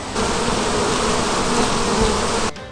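Honeybees at hives just unpacked from their wintering boxes and opened for a first spring inspection, a loud, steady, close buzzing drone that fills the clip and then drops away abruptly near the end.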